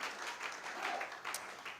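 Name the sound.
congregation applauding and cheering in church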